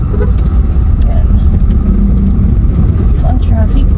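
Steady low road rumble of traffic heard from inside a car, continuous and fairly loud throughout, with a voice talking over it.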